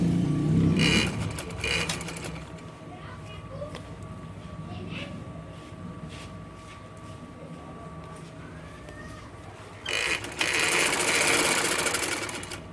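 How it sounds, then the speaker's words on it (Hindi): A sewing machine stitches a shalwar hem in rapid bursts, loud at the start and again near the end with a quieter stretch between, heard close up with little talk. "इसके ऊपर मैं ये वाला किनारा रखते हुए सिलाई लगा दूँगी"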